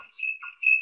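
A smoke alarm gives short, high, piercing electronic beeps in quick alternating pulses, clear and alone with no talk.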